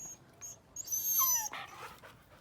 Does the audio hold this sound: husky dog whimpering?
yes